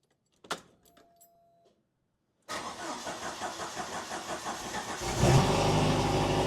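A few faint clicks and a jingle, a pause, then a Jeep engine cranks longer than usual and catches, settling into a loud, rough idle that swells near the end.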